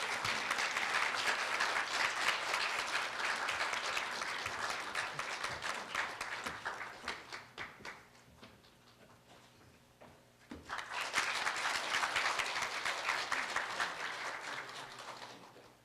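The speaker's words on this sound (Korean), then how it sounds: "홍성훈 회장님을 큰 박수로 모시겠습니다" Lecture-hall audience applause welcoming a guest speaker to a university special lecture. Dense clapping runs for about eight seconds, fades briefly to sparse claps, then swells again before tapering off.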